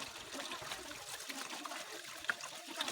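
Cauliflower is rinsed under a running kitchen tap, a soft steady trickle of water with faint splashes and clatter, heard quietly without talk.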